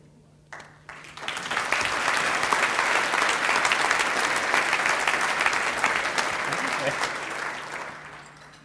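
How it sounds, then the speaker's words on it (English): An audience applauds at a roast of a Richmond Times-Dispatch political columnist. The applause swells quickly after a brief quiet start, holds as a dense, sustained clatter, then tapers off near the end. "The applause should have been longer."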